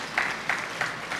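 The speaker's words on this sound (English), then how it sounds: "So when we want to get Mr. Kazim, give him a round of applause here." Banquet guests at an interfaith dinner give light, scattered applause, a few distinct clap bursts spaced evenly over a soft room background.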